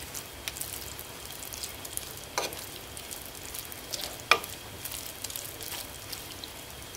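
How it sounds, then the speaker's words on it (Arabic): Soft scraping and stirring of vegetables with celery and a little water in a pot over a quiet sizzle, with a few brief clinks of a utensil against the side. "وأستمر في التحريك لمدة 10 دقائق حتى تنضج الخضر"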